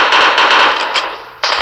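A Famas rifle in the Mask Gun shooter fires a rapid, loud burst that holds steady, fades briefly and then resumes sharply just before the end.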